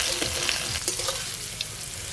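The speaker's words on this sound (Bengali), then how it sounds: "কচুগুলো খুব ভালো করে একটু নেড়ে নিয়েছি" Taro pieces with turmeric and salt stir-fry in hot oil, giving a steady, bright sizzle with a few quick scrapes and taps from the stirring spoon.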